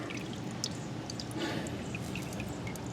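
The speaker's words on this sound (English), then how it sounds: "Okay, we're draining." Old manual transmission fluid drains steadily from a Ford F-150 into a catch pan as a continuous soft pouring trickle with scattered faint drips, quiet and close, and no talk.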